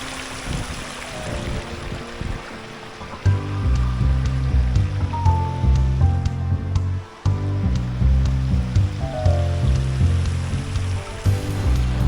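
Water rushes at Marleshwar waterfall near the Marleshwar temple in Ratnagiri, a steady broadband roar that continues throughout under louder background music, with a brief dip partway through.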